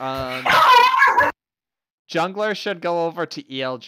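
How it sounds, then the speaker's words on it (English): A dog barks and yips in the background during live esports match commentary, mixed in with close casters talking over it. "I apologize for my dog."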